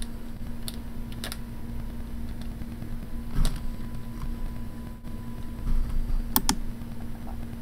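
Computer keyboard keys are tapped in scattered bursts of clicks, some quick doubles and a few isolated presses, over a steady electrical hum and background noise.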